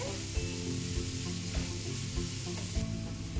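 Grated carrot and string hoppers being stir-fried in a hot pan, giving a steady close sizzle with soft scraping and stirring knocks throughout and no talking.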